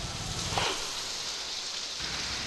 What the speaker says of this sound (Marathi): आज पहाटेपासूनच नाशिक शहराच्या सर्वच भागामध्ये पाऊस मुसळधारपणे कोसळतोय